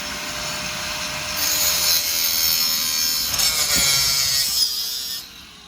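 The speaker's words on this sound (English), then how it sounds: "They're cutting the screws that are barely holding the window." A power saw cuts through old screws holding a window in place while the window is being removed, a loud, steady buzzing and grinding rasp that runs for several seconds and then stops.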